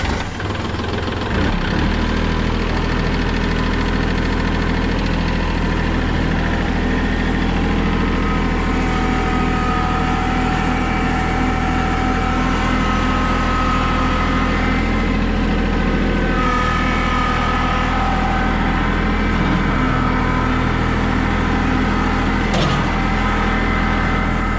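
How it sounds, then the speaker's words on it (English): A tractor engine runs steadily at a low idle throughout, close by and fairly loud, with a constant rumbling drone and no talking. "Let's get that tractor over there."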